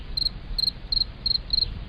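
Crickets chirp in steady, evenly spaced pulses, five bright bursts over a soft low background hum, with no talking.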